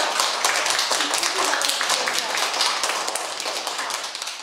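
Classroom of schoolchildren clapping their hands together, a dense, steady patter of many small claps close by, continuous and fairly loud throughout with a slight fade toward the end.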